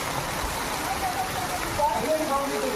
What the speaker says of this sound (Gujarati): વરસાદ વરસે નકરું પાણી પાણી જ કરી નાખ્યું.